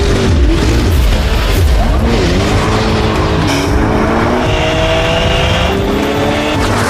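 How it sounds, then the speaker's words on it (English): A Koenigsegg Jesko and a Chevrolet Corvette ZR1X drag racing, loud roaring engines climbing through gear changes with tire noise, close and intense for the whole stretch. "are going to race my Koenigsegg Jesko versus the brand new Corvette ZR1X"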